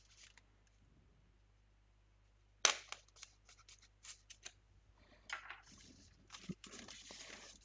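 Scissors slice through packing tape on a cardboard box: after a quiet start come close, scratchy snips and rubbing bursts that recur irregularly for several seconds.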